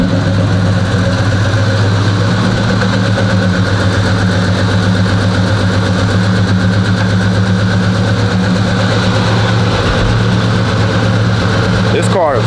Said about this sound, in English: This box Chevy loud.